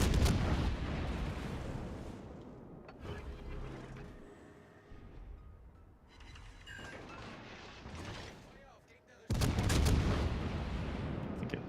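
Warship guns firing high-explosive shells in World of Warships: Legends, heavy booming salvos at the start and again near the end, with quieter mechanical rumble between.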